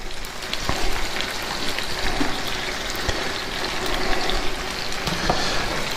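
Steaks coated in tomato puree frying in a pan for Steak Diane give a steady, close crackling sizzle that runs unbroken throughout, with no talking.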